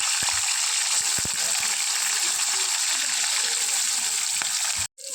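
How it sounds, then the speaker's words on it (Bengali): Fish frying in hot oil for a Bengali fish and lentil dish, a steady loud sizzle with a few scraping clicks near the start and a brief drop to silence near the end. "মাছগুলো বেজে করে করে নিচ্ছি"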